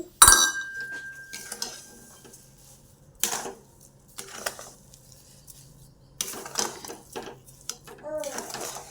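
A spoon scrapes and clinks in a pan as sugar is stirred into pineapple sheera, in scattered short bursts of metallic tapping with quiet gaps between, close and fairly clear.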